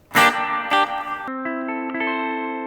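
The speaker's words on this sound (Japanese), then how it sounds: "ホールリバーブですね。" Guitar notes and chords ring out through the hall reverb of a ZOOM MS-50G multistomp pedal, a long, spacious tail with sustained tones lingering and blending as they slowly fade.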